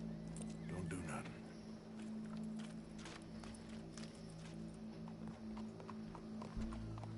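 Horses in the video game Red Dead Redemption 2 clip-clop steadily at a walk under a constant low engine-like drone, with a faint whinny early on and speech in the background.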